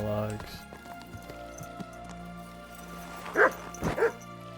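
A dog in the video game Kingdom Come: Deliverance II gives a few short yips and barks near the end, following some quieter whimpering sounds and low background game noise.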